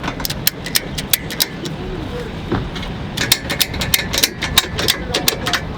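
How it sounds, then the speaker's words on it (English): Ratchet tie-down straps are tightened to secure sportbikes in the bed of a Toyota Tacoma, giving a steady series of sharp, close clicks over a continuous outdoor background. "you can start ratcheting them down."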